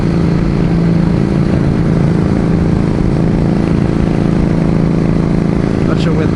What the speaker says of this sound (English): the microphone will pick up the sound of the Harley, but it sounds pretty cool